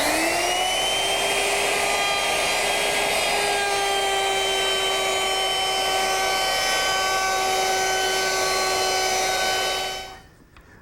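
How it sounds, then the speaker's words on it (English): A router fitted with a 1/4 inch radius roundover bit easing the edges of wood for an X-brace trestle table gives a loud, steady high whine that holds for about ten seconds, then winds down and stops. "with a 1/4 inch radius roundover bit,"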